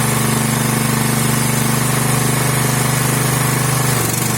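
A petrol generator running on propane drones loudly and steadily under a 2 kW load, its even engine hum shifting slightly at the very end.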